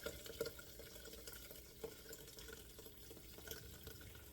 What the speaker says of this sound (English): And all I do is pour it literally through